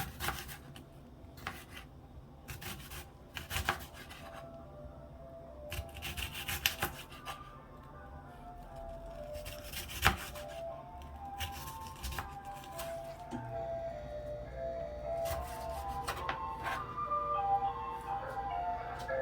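A knife cuts an onion on a cutting board while cooking Jamaican ackee and saltfish, giving a run of irregular close, crisp chops and scraping rubs with quieter pauses between bursts.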